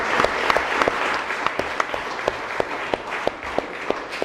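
Audience at a school committee meeting applauding steadily, a dense wash of many hands with sharper individual claps popping through, moderately loud and with no talk over it.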